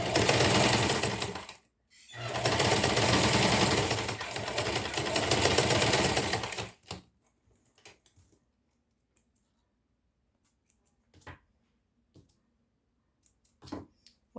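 A sewing machine stitches a school pencil case in two steady runs, a short one and then a longer one, followed by quiet handling clicks and faint rustles.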